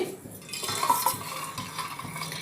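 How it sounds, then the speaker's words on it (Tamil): Sathu maavu puttu mix being scooped and stirred onto an idli plate, giving soft scraping and light clinks of utensil on metal, close and fairly quiet, with no talking. "கிளறிட்டு இப்போ வந்து இட்லி பிளேட்டில் வந்து வைக்க ஆரம்பிக்கலாம். இட்லி பிளேட்டில் அள்ளி வச்சு"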